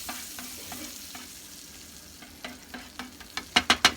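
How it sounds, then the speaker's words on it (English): Butter sizzles faintly in a frying pan for French toast, a soft steady crackle under a string of sharp clicks that grow louder and closer near the end. "there's lots of butter here to get every corner of the pan"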